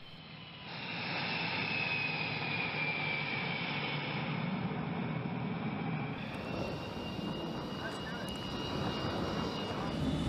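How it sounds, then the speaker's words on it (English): A steady, loud jet roar from a U-2 spy plane taxiing toward its hangar, holding a high whine with a broad rumble beneath it and continuing for the full ten seconds. "allowing the U-2 to taxi safely to the hangar."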